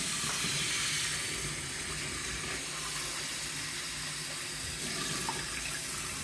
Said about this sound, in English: Fill it up with new water.